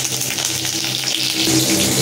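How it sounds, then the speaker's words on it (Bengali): Radish, eggplant and stalk greens sizzle steadily as they are stirred in hot oil for a Bengali chorchori, a continuous close crackle of frying with no voices. "এখানে মূলো, বেগুন, একটু ডাটার যে শাকগুলো ছিল সেইটা, আর একটু তেলের ওপর দিয়ে নাড়াচাড়া করে নিই"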